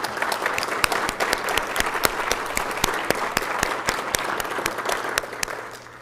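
Audience applause at a mayor and council meeting honoring the Month of the Military Child, steady dense clapping filling the room for about six seconds before tapering slightly at the end.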